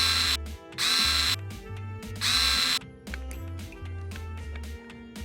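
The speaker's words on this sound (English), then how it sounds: "then get a screw and put the screw right inside the middle and screw it in." Power drill driving a screw into a part of a homemade automatic bird water feeder, in several short whirring bursts with pauses and two longer, louder runs close by.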